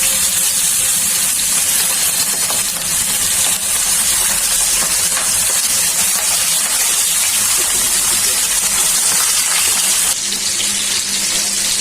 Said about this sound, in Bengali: এখন তেলটা গরম হয়ে গেছে, একে একে মাছগুলো দিয়ে দিচ্ছি গরম করে।